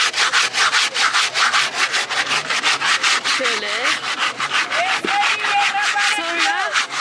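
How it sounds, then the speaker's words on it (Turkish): Rhythmic rasping strokes as a dried gourd is sanded by hand at a busy African market in Niger, steady and close, with market voices and brief talk over it. "Böyle zımparalıyor."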